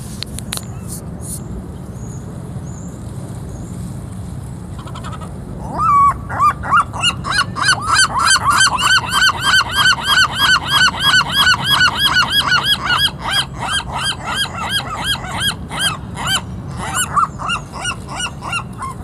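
Goose honking while being fed, starting sparsely then breaking into a long run of rapid, loud, close honks over a low background rumble, with a few scattered calls near the end.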